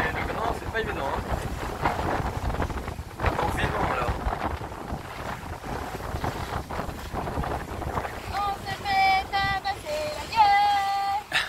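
Wind and waves at sea aboard a boat on a windy coast during a squall, a continuous rushing roar with splashes and buffeting, while people talk and brief whistling or creaking tones appear near the end.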